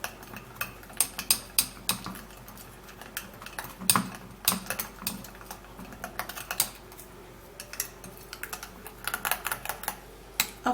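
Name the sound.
stirring a mixture with a teaspoon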